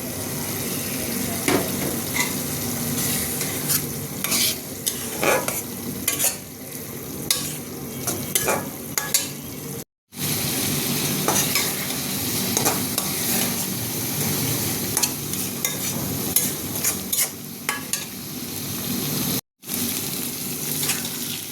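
Stinging catfish roe fries in a pan while being stirred, with a loud, steady sizzle and constant scraping of the utensil, broken by two brief silent cuts, and no talking.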